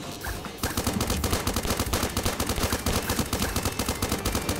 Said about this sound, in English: now I have to fire hilariously slow bullets